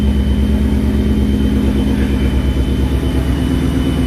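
A loud ProCharger-supercharged S550 Ford Mustang engine, with the supercharger filter removed, runs steadily at close range, a deep constant rumble with a faint high whine on top.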